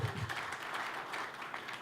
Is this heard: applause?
yes